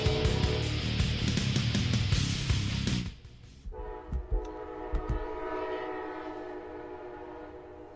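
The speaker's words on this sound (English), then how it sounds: "to hear a train coming by." A train rolls past in the South Florida mangroves, loud and close with a blaring horn and rumbling wheels, then it cuts away to quieter receding rail noise with a few knocks.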